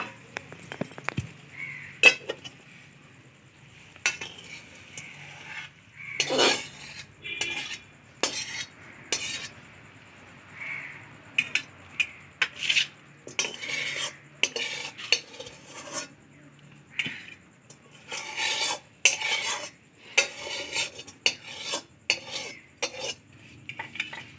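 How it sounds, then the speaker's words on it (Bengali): Dry-style potato curry (alur dom) is scraped and poured out of a cooking pan with a metal spatula, giving a long run of irregular metallic clinks, taps and scrapes, near and clear over quiet room background. "এবারে নামিয়ে আমি ঢেলে নেব"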